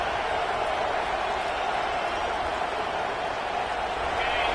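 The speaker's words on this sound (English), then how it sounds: "This crowd, full throat, spreading the eardrums" A football stadium crowd roars as one broad, steady wall of noise, loud and unbroken, with no single voice standing out.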